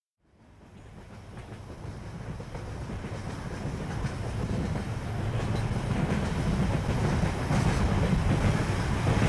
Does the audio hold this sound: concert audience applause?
no